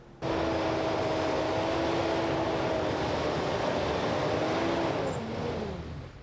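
City snowplow trucks working through deep snow: a steady, loud engine drone with a tonal whine that holds through the clip, then slowly drops in pitch and eases off near the end, with no voices.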